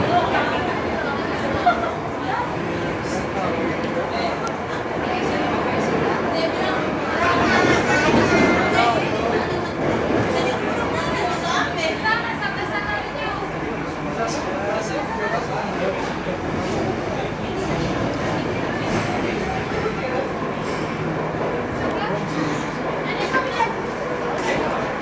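Jakarta MRT train running toward Lebak Bulus station, a steady rumble inside the carriage under continuous passenger chatter and a louder announcement-like swell midway.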